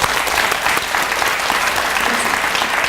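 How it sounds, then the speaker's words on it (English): Audience applause for the Pink Elite group at an International Women's Day celebration evening, a steady, dense wash of many hands clapping throughout, loud and close with no pause. "Can we give a big round of applause for Pink Elite?"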